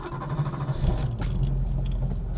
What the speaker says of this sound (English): Such a good sound when you start up this car.